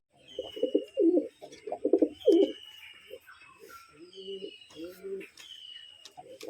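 A male Kath Thokra pigeon calls for its mate in a loft, giving a series of close, throaty rolling coos in bursts, with shorter coos following and someone talking nearby.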